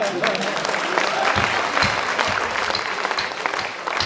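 Audience at a Kavi Sammelan poetry recital breaks into clapping, a dense close round of applause lasting several seconds, with voices mixed in.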